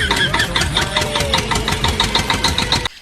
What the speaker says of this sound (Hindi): बड़ी ही मुश्किल से ट्रैक्टर स्टार्ट हुआ है।